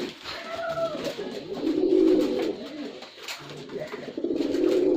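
Pigeons coo in soft repeated rolling calls close by, with light rustling and faint household sounds around them.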